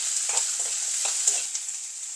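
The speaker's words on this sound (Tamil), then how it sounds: "அந்த வெங்காயம் நல்லா வதங்கட்டும்." Chopped onions sauté in a pan for chana dal chutney, a steady close sizzle with soft intermittent stirring scrapes and no voices.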